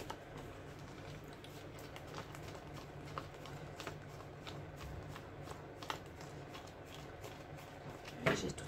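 Tarot cards are shuffled over and over in soft, quick riffling patters, close and fairly quiet, ending in a louder flurry of shuffling.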